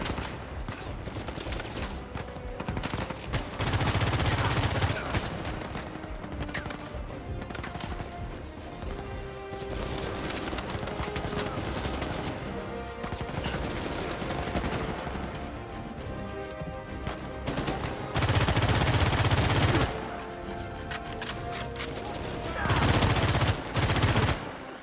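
Shootout gunfire in Uncharted 4, bursts of automatic fire and single shots coming in waves, some loud and close, others quieter between, with brief voices mixed in.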